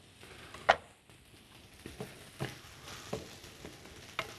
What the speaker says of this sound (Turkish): biberim ve soğanım koteleniyor